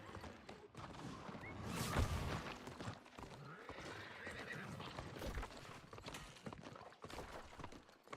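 A horse mount in the New World video game whinnies while its hooves clip-clop in a steady run, close and moderately loud, with the neigh rising clearly near the start.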